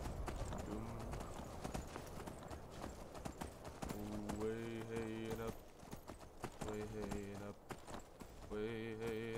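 Horse in the video game Skyrim, steady clip-clopping hooves under background music with sustained melodic swells, fairly faint and continuous.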